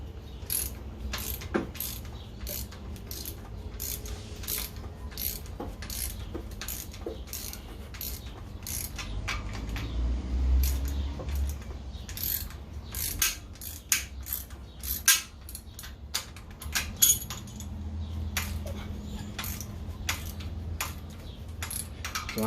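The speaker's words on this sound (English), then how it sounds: "I'm just gonna go ahead and loosen the rocker arms." Ratchet wrench loosening rocker arms on the original 302 engine of a 1969 Mustang fastback, with repeated bursts of quick metallic clicking, pauses between strokes and occasional clanks of metal.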